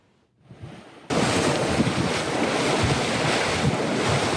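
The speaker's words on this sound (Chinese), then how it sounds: "听起来亲像海洋在拍的声音，土煤火山一直对地下扑出来，土煤掺火做伙喷起来。" Mud volcano in Wanluan, Pingtung, erupting from several craters at once, a sudden loud rushing roar like surf that starts after a faint gap and keeps going steadily.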